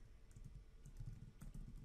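Quiet keystrokes on a computer keyboard as a command is typed, a brief run of soft, close clicks in an uneven rhythm.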